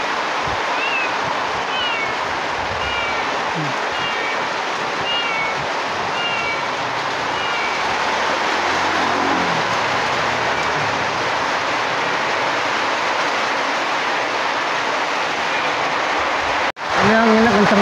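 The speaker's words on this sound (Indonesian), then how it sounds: "Anginnya kenceng banget ini" Strong wind and rain roar outdoors in a steady, loud broadband wash, with a small kitten's faint meows cutting through early on and a sudden knock near the end.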